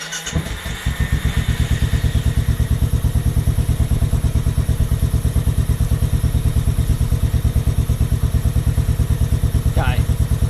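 A Royal Enfield motorcycle fitted with a Carberry vibration reduction plate starts with a quick crank and settles into a loud, close idle, a steady fast thumping beat that runs on without a break.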